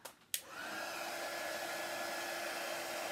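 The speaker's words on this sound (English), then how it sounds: "So I'm going to dry this with my dryer. And again, I use a heat tool to do this." A heat tool drying a craft project, starting with a short click and burst, then a steady, even blowing whir that holds close and constant, with no talk.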